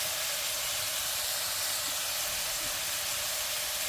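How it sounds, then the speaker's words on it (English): Sauteed beef sizzling in a pot as tomato paste goes in for an okra and beef stew, a dense continuous hiss that holds steady and loud throughout, with no voices. "now our meat is lightly sauteed, and now we're going to add our tomato paste"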